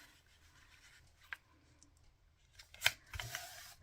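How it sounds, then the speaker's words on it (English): A printed paper sheet for a modern-themed papercraft journal is folded back, giving faint, quiet paper rustles and a few sharper creasing crackles near the end. "I'm just going to fold it back the other way."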